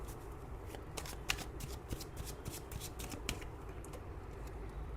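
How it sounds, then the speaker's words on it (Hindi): Tarot cards riffled and shuffled close up during a reading, a steady papery rustle with a string of crisp flicks and snaps as cards are drawn and laid down, no talking. "पहले मैं सब कार्ड्स निकालने वाली हूँ"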